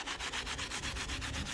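Rhythmic scrubbing on the dirty, painted body of a rusty old Ford Bronco, about a dozen quick brush strokes in an even back-and-forth beat, close and fairly quiet, with no talking.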